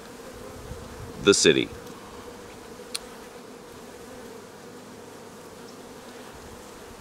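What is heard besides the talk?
rescued bees buzzing while rebuilding the hive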